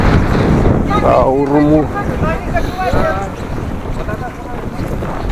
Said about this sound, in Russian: Ух, ветер какой сегодня.